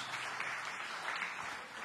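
A church congregation claps together during a sermon, a dense, steady wash of applause that holds evenly for a couple of seconds with no voices over it.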